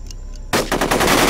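Loud automatic gunfire in the video game UFO: Aftermath bursts in suddenly after a quiet half second, a fast rattling stream of close shots.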